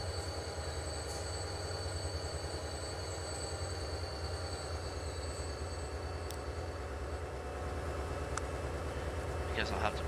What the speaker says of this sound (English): that got the trains moving again